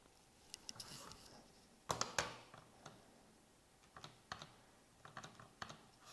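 Someone taps numbers into a calculator keypad, with quiet scattered clicks and a few brief bursts of keypresses at close range in a hushed room.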